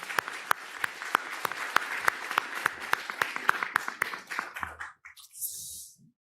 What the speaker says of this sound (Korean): 하나님께 다시 한번 영광의 박수를